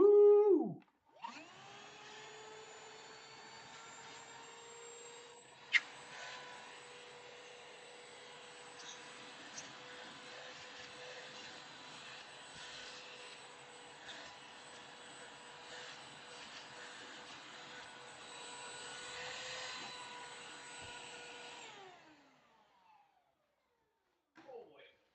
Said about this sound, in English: I think I have a vacuum over here somewhere.